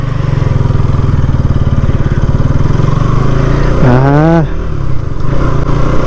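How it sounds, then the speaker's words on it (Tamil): A KTM Duke 200 motorcycle in first gear, its engine thrumming loud and close, then revving up in a rising whine before easing back to a steady run. "கைஸ் ஃபஸ்ட் டைம் வந்து டியூக் 200 ஓட்ட போகிறேன்"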